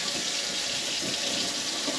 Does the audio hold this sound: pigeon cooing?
no